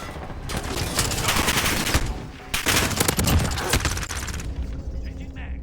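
Submachine gun firing in the Modern Warfare video game, two long, loud bursts of rapid automatic fire separated by a short pause, followed by quieter mechanical handling sounds.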